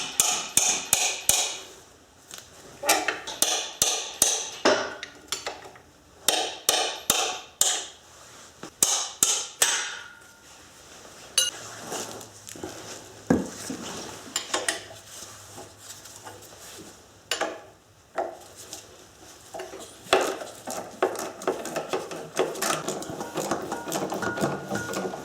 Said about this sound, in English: socket and ratchet to remove it.